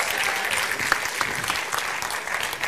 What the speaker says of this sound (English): You can applaud, you can applaud.